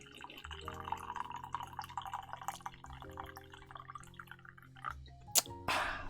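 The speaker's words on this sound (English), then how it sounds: "Pour myself another cup of coffee" Coffee is poured into a cup over smooth jazz playing steadily in the background, a soft trickling and dripping of liquid running beneath the music.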